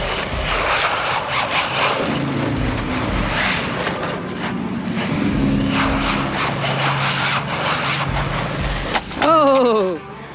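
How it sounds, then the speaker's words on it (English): An Arrma Granite Grom RC car with a brushless motor on a 3S battery runs on blacktop, its high-pitched motor whine rising and falling, ending in a quick rising squeal, with a person talking over it. "This little thing is insane on 3S."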